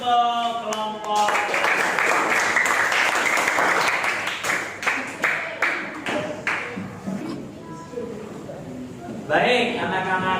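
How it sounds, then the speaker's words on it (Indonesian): Applause from a classroom of pupils for a group after group work, a steady burst of clapping that breaks into scattered claps before a brief final flurry. "tepuk tangan untuk kelompok"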